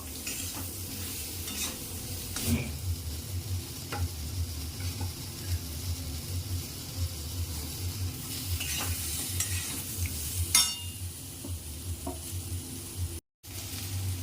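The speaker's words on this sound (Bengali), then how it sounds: "হলুদ দিয়ে দিলাম দিয়ে দেখুন আমগুলোকে ভালোভাবে নাড়াচাড়া করে নেবো" Mango pieces dusted with turmeric fry in a pan for a sour-sweet pickle, a steady sizzle broken by repeated scraping stirs of the spoon, with no voices.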